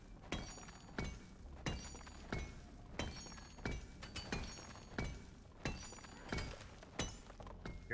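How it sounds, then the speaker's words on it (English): Something big digging through rock walls in Deep Rock Galactic: a steady run of heavy, crunching impacts at regular intervals, each with a sharp shattering edge, fairly faint and unaccompanied by talk. "Here's something big digging to us."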